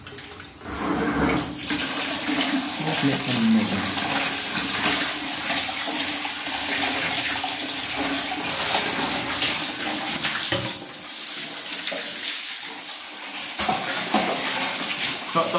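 Water rushes steadily and loudly through a clogged sewerage drain blocked with debris and plastic, a continuous gurgling flow with a brief voice speaking over it.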